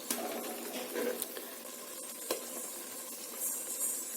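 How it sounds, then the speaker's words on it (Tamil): Boiled eggs gently stirred into biryani masala in a pressure cooker pan, with a steady low sizzle and a few soft scraping stirs, close and moderately loud with no talking. "முட்டை சேர்த்திட்டு அது உடஞ்சிடாம லைட்டா ஒரு டைம் கலந்து விட்டுடுங்க"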